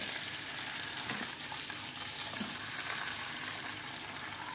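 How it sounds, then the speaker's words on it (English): Egg for French toast sizzles in a hot pan with a steady, fairly quiet frying hiss. A few faint clicks and scrapes sound in the background. "Okay, just add the egg."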